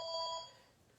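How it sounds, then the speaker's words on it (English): A telephone rings in a home craft room during a live card-making stream, a bright electronic ring heard once up close before fading out. "which is why the phone's ringing"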